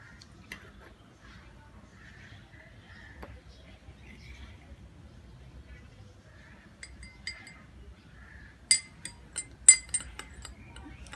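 A spoon clinks against a glass while lemon juice is being made, giving a cluster of bright taps near the end after quieter handling sounds, with people talking at times.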